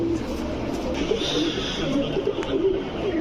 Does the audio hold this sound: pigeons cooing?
yes